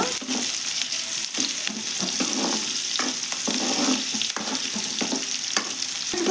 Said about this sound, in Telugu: కొద్దిగా బాగా ఫ్రై చేసుకుందామండి దీంట్లో.